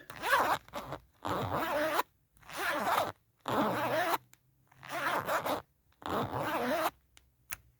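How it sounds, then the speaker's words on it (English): A boot zipper is pulled repeatedly, six rasping zips in steady succession with short pauses between, close and clear with no talking. "you can hear the zip"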